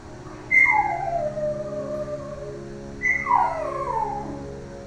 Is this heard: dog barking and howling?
yes